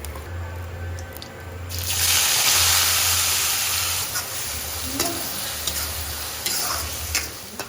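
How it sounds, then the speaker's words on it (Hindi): Bay leaf, cumin, asafoetida and onion sizzle and fry in hot mustard oil in a kadhai, a steady crackling hiss that swells loudly after a couple of seconds, with light ticks and stirring clinks throughout. "और तेल जब गरम हो गया था तो उसमें तेज पत्ता, जीरा, हींग और उसके बाद बारीक कटा हुआ प्याज डाल दिया है।"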